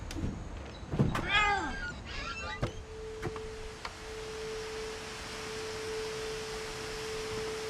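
A couple of short cat meows in the game What Remains of Edith Finch near the start, followed by a few sharp clicks and a steady electronic hum, with no one speaking.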